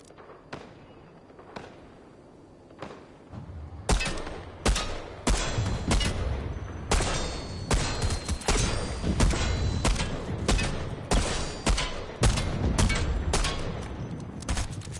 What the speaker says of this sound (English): Get in the tank, because I need to shoot it.